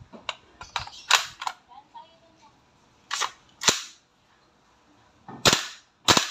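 A WE M4 RIS gas blowback airsoft rifle fires single shots with the bolt cycling: sharp, loud cracks arrive in irregular bursts and singles with quiet gaps between, mixed with small mechanical clicks.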